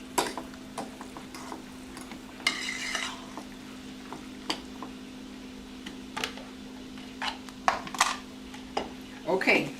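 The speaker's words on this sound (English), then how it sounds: "We put half the cheese inside and mix it up" A utensil stirs cheese into southern-style macaroni and cheese, giving repeated scraping clicks and taps against the pot with a steady hum underneath, close and fairly loud, no talking.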